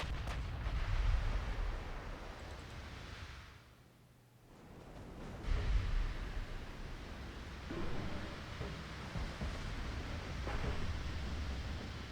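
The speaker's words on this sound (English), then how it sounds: "There's a lot of 5-inch shells coming in on this ship" Five-inch shells pound a dreadnought in a naval battle game, a continuous roar of heavy, rumbling impacts and gunfire that dips briefly before surging again.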